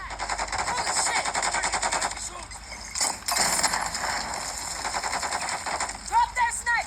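Rapid machine-gun bursts and rattling gunfire from Call of Duty MW2, played on a Steam Deck, fill the scene at moderate loudness, with in-game voices talking over parts of it.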